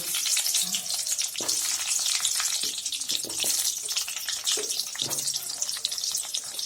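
Olives frying in hot oil with nigella seeds for a sour olive pickle, giving a steady close sizzle and crackle throughout with a few faint clinks of a utensil.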